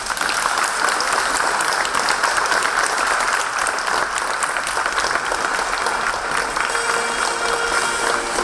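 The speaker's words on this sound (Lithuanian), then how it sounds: "Nepagailėkit plojimų." An audience at a stage event applauds steadily as a project team walks up, a dense, even wash of many hands clapping throughout without a break.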